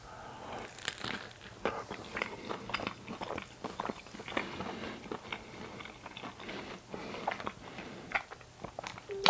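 Close, soft crunching and crinkling as someone bites into a surf and turf pie filled with garlic prawns, followed by irregular chewing sounds, with pastry and wrapper rustles and no talking.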